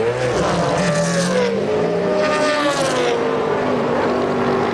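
A race car engine in the pit lane revs hard and pulls away as the clutch is dumped, a loud continuous roar with rising and falling pitch, close and with no talk over it.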